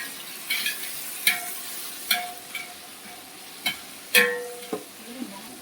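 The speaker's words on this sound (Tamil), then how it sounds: "வெங்காயம் ப்ரௌன் கலராக வந்ததுக்கப்புறமும் தக்காளி போட்டு நல்லா வதக்கி விடலாங்க. கட் பண்ணி வச்சுருக்க கொத்தமல்லி புதினா போட்டுக்கலாங்க." Onion, tomato, coriander and mint sautéing in a pan for home-style biryani, a low steady sizzle broken by sharp intermittent scrapes and clinks of a spoon stirring, nearby and moderately loud.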